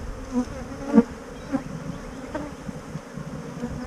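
Honeybees buzzing faintly around an open nuc hive during a frame inspection, a soft steady hum with a few brief closer buzzes and light handling knocks.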